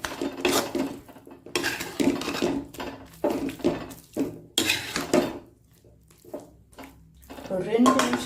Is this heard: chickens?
no